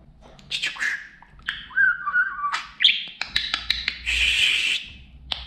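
Budgerigar chirping close by in a run of quick warbling tweets, whistles and clicks, with a few fast rising trills, loud and continuous across a quiet room.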